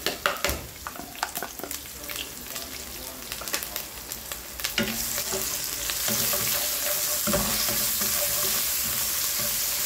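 Adobong kangkong fries in a pan after fermented shrimp paste goes in, starting with scraping stirs and clinks, then settling into a loud, steady sizzle up close, with no talking.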